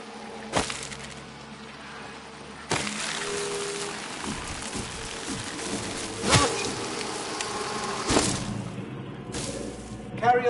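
Insects buzzing in the jungle game Robinson: The Journey, a thin continuous drone with sharp cracking and snapping bursts breaking through at intervals, fairly close and steady throughout.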